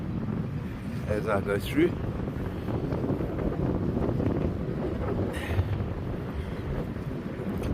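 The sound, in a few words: wind while riding by the sea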